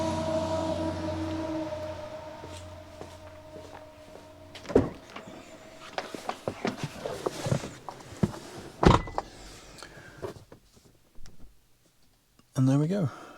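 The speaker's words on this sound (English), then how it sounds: "Click on, charge port locked," An Autel Maxicharger Lite 40A home EV charger, with a steady hum and mechanical clicks as the car's charge port locks and charging begins, followed by near, louder clunks and a burst of activity at the end.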